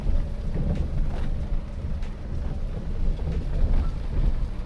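Rain falling during a windy thunderstorm in open countryside, a steady, dense wash of noise with low rumbling underneath and no voices.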